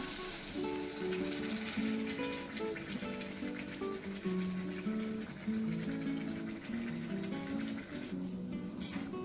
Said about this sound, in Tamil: மிளகா இப்போ கொஞ்ச நேரம் நல்லா வேகட்டும்.